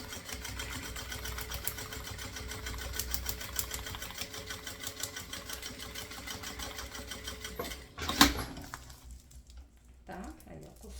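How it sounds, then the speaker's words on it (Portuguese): A sewing machine runs in a fast, steady rhythmic chatter while stitching Etaflon lining for a thermal bottle-holder bag, stopping after a sharp clack near the end. "Só para elas verem a gente costurando etaflon"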